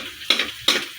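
Egg adobo sautéing with pepper in a pan, two short bursts of hissing sizzle as the food is stirred or tossed, close and loud with no talking.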